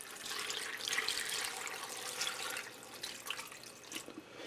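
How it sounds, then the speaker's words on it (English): Water pouring into a pressure cooker with ham in it, a soft continuous splashing trickle heard close up and fairly quiet, with no talking. "I'm going to add in 4 cups of water."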